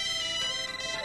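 A cell phone ringtone plays for about a second, steady and loud, a bright electronic tone repeating with no voices over it.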